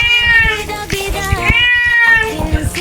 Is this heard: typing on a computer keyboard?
no